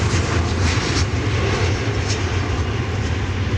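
An airliner arriving at DFW Airport from Austin, Texas, on a damp morning, its engines giving a loud, steady low roar close by, unbroken for a few seconds with no voices.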